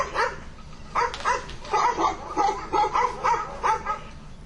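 A dog gives a run of short, evenly spaced yips and barks, about eight in a row, close and moderately loud over a steady indoor background with no talk.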